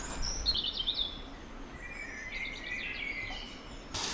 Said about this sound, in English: birdsong is in the air, spring has sprung, Nicole's going to be doing some little bird